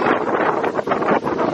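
Strong gusting wind roars across an outdoor microphone ahead of Hurricane Milton, a dense, buffeting rush that surges and dips in waves without any talk.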